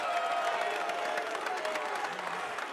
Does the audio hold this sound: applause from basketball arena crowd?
yes